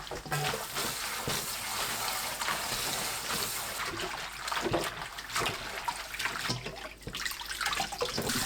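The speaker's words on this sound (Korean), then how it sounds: "세네 번 헹굽니다." Fresh seaweed rinsed under a running tap, a steady close splashing and trickling of water into a sink that continues throughout with small surges, with no voices.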